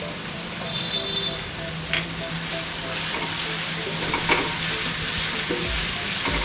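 Spices, tomatoes, turmeric and salt being stirred in a frying pan for an egg masala curry, a steady sizzle with scraping spoon strokes throughout, close and moderately loud, with no talking.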